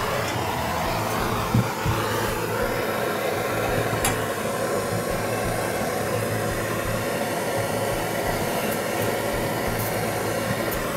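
A gas torch roars steadily and close while heating a soldered brass valve joint on plumbing pipe, a continuous broadband hiss lasting throughout with a couple of faint metallic clicks.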